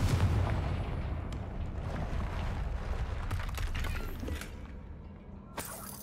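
A Confringo spell blast in the video game Hogwarts Legacy: a heavy booming burst with a rumbling, crackling tail that fades over several seconds, ending in a short sharp crack.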